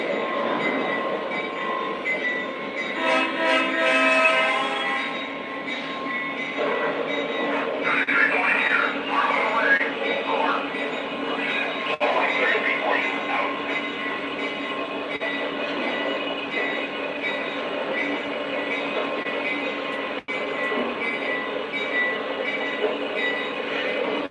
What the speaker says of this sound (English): this train is going to be a little bit loud because it has two engines plus 3 sound cars